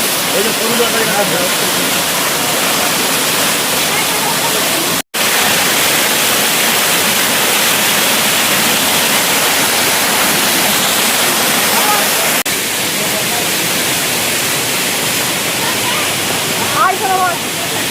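A large waterfall in Purulia roars as a loud, continuous wash of falling water heard from very near, steady throughout with only a momentary dropout.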